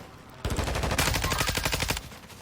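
Rapid automatic gunfire from the video game Warzone rattles out in one sustained burst of about a second and a half, loud and close, with no talking over it.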